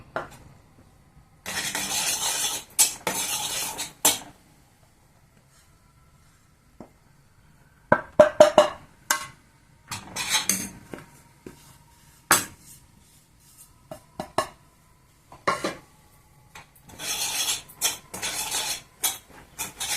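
Flour being stirred into a pot while making chalimidi gives bursts of scraping and clinking from a spoon against the metal pot, coming in several separate rounds with quiet gaps between them.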